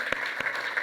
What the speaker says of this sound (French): On peut applaudir également de nouveau Coralie pour cette présentation.